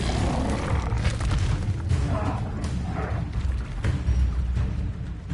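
Booming fiery blast of the Incendio spell in the video game Hogwarts Legacy, a dense rumbling roar with crackling bursts that fills the whole moment.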